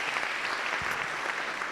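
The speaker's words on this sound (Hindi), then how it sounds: "तालियां बजाएंगे।" A church tribute gathering breaks into applause, a dense even patter of many hands clapping at moderate distance that holds steady throughout.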